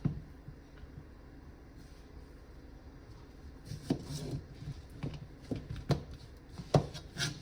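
A knife cuts zucchini lengthwise on a cutting board, a few soft scraping slices and dull thuds in an irregular rhythm, close and fairly quiet, with no talking.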